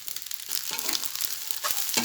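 Nasi goreng with garlic seasoning fries in a pan, a bright crackling sizzle with occasional stirring scrapes, close and steady.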